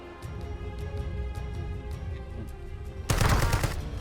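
Gunfire in the video game Battlefield, a steady mechanical game soundscape that erupts into a loud, dense burst of automatic shots near the end, no speech.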